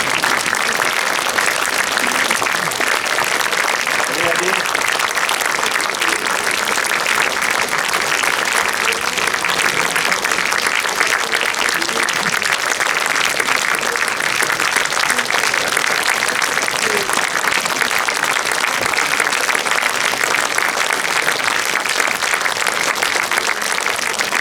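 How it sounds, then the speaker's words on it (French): An audience at a conference claps for the speakers in loud, continuous applause that stays dense and even for about twenty-five seconds, with no voices rising above it. "on va d'abord demander à tous les conférenciers de se lever pour que vous ayez l'occasion d'applaudir une dernière fois"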